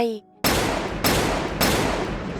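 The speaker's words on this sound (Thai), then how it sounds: "เสียงปืนดังสนั่นสะท้อนทั่วหุบเขา" Three loud, booming shotgun blasts in quick succession, each sustained and harsh, after a brief faint tone.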